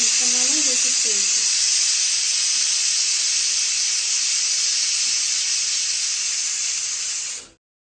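Steady loud hiss of steam escaping from a pressure cooker after cooking rajma with spices, continuous and broadband for about seven seconds before cutting off abruptly, with a brief voice at the start.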